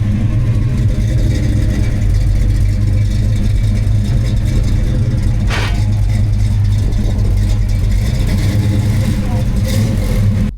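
A deep, rumbling classic car V8 engine idles and revs steadily throughout at a Cars & Coffee meet, loud and close, with a brief sharp noise partway through.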